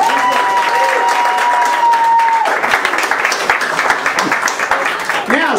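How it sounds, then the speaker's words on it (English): A comedy club audience breaks into applause and cheering, dense clapping building under a voice talking over the crowd, with whoops near the end. "I'd like you guys to give another round of applause for Johnny Amoeba"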